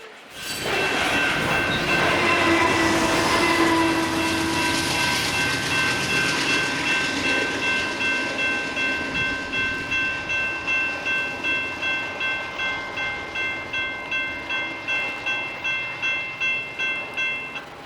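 A heavy freight train hauled by Dash 9 locomotives, including a C44-9WL, rumbles past on the Seattle Subdivision, diesel engines droning loudly before the rhythmic clickety-clack of wagons rolling over rail joints takes over.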